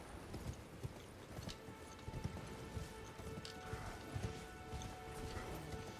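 Horse hooves clip-clopping in a steady trotting rhythm in the video game Elden Ring, fairly quiet, with a faint low background and no talk.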